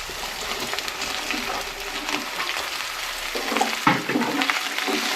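Capsicum and onion sizzle together in a hot pan for chilli chicken, a loud, steady crackling fry with brief scraping stirs near the end and no voices.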